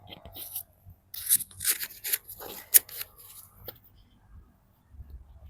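A wireless lavalier mic (TNW X8) clipped onto a shirt collar, with close, scratchy rubbing and fumbling handling noises, including a sharp clip snap, then quieter fabric shuffles.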